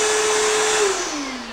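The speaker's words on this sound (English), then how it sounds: "if I am just doing general vacuum cleaning, then I can just switch the machine on" A Metabo 18V cordless M-class vacuum cleaner, the ASR 36-18 BL 25 M SC, runs with a steady, loud motor whine close by, then winds down as it is switched off near the end.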